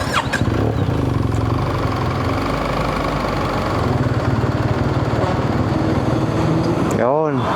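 A BMW 1300GS motorcycle with an upgraded exhaust runs steadily with a loud, close, throaty rumble, briefly swelling near the end, while voices talk over it.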